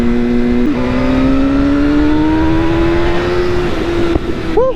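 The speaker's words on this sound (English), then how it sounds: "There's a truck coming." A truck rumbles past during a ride on a 2008 Suzuki GSXR600 motorcycle, its noise swelling over the bike's loud, steady engine drone and rushing wind, the engine's pitch rising slowly.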